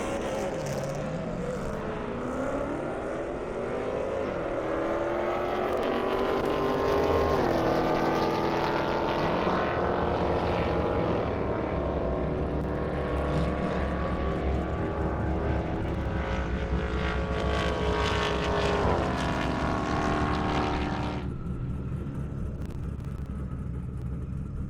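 A Dodge Challenger and a BMW M3 race down an airstrip at an event, engines roaring and climbing in pitch as they accelerate, sustained and fairly distant, then cutting off abruptly toward the end.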